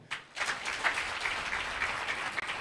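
Steady applause from an audience at a dormitory and multipurpose hall commissioning ceremony, with many hands clapping together at a moderate distance and no pauses.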